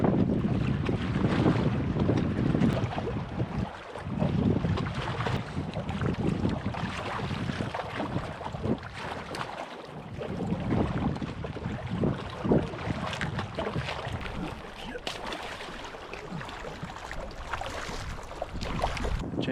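Strong wind blows by Lake Eleanor in Yosemite, loud gusts buffeting the microphone with a roaring, uneven rush, with lapping water underneath.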